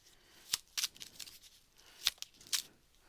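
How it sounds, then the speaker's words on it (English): Tarot cards being shuffled by hand in short, crisp bursts of riffling and sliding, a few separate flicks spaced across a quiet background. "Okay, I'm still shuffling."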